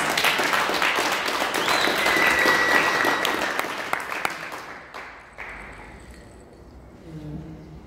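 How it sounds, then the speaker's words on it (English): An audience at a poetry performance gives itself a round of applause, a dense sustained roar of clapping that holds strong for several seconds, then thins out and fades, with a faint voice near the end. "Please give yourselves a round of applause."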